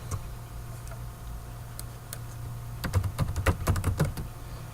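Typing on a computer keyboard, sparse single key clicks at first, then a quick flurry of crisp keystrokes, close and moderately loud over a low steady hum.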